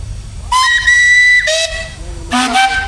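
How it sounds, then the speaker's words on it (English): Loud steam engine whistles blow nearby at a country show arena, one long shrill blast followed by shorter toots, some overlapping with slightly different pitches over a low rumbling background. "give us a whistle"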